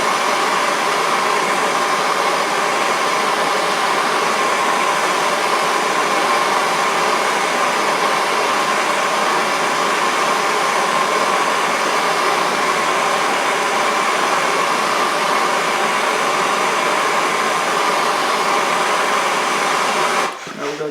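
A steady, loud torch roar heats a horseshoe nail clamped in a vise for forging a heart, a continuous broadband hiss that holds unchanged for about twenty seconds and cuts off abruptly at the end.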